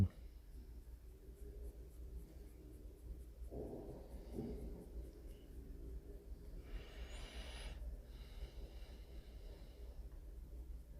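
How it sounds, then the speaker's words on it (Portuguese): Soft, steady scratching of a pen-style eraser rubbed gently across graphite on paper while shading a face drawing, a continuous close and quiet friction with a brief brighter burst midway. "vá passando a caneta borracha de forma bem suave para tirar levemente o excesso de grafite"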